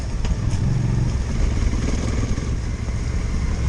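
A Honda CRF 300L motorcycle ridden on an off-road trail, its engine droning steadily and loudly with rumbling low end and rattling clatter, close by and continuous with no pauses.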